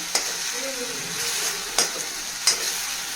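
Raw onion roasting in a pan for drumstick curry crackles with a steady bright sizzle, broken by three sharp scrapes of a spoon stirring it, close and fairly loud.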